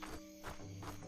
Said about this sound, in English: The sound effects in this game are fantastic as well. Hear all the crickets